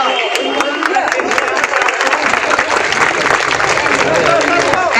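A crowd applauds steadily and loudly at a district headquarters Independence Day ceremony in Firozabad, a dense continuous wash of clapping with no break across the few seconds.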